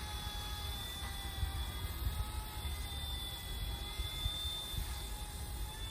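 An Eachine E120 RC helicopter flies outdoors in roughly 7 mph wind, its small motor and rotor giving a steady whining drone at moderate distance, continuous throughout with no talk.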